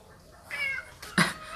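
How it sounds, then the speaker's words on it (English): A house cat lets out a short meow close by, a brief clear call in a quiet room with no talking. "My cat is trying to attack me now."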